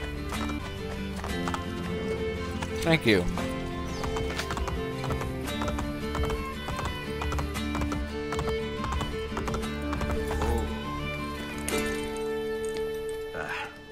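Horse hooves clip-clop in Assassin's Creed Brotherhood amid game music, with a horse neighing and game voices speaking briefly over the steady rhythmic hoofbeats.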